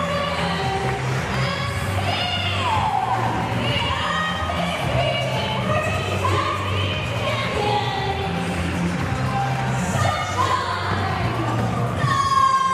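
A packed York Hall crowd cheering and shouting at a British tag-team wrestling championship match, loud and sustained roaring with whoops and yells throughout, filling the hall in a continuous wash of noise.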